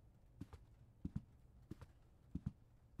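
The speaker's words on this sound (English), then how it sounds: "I clomp like a fucking horse." Heavy, clomping footsteps in the Late Night Mop horror game, paired thuds like hooves on a hard floor, spaced irregularly and fairly quiet against a low background hum.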